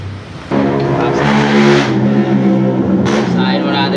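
A car engine revs during a tune-up adjustment in a workshop, rising and holding as a loud mid-pitched drone with a steady harmonic hum for several seconds.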